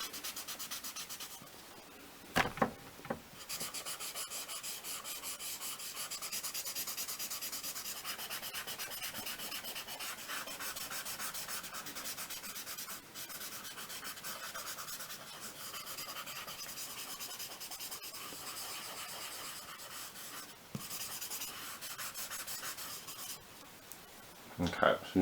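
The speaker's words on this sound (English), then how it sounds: "I'm going to take this dirty paper towel now and use it to effectively set a light ground" A dirty paper towel rubs graphite across a small sheet of drawing paper, giving a soft, continuous close-up scrubbing and swishing that runs for about twenty-five seconds with a few louder brushes and handling knocks.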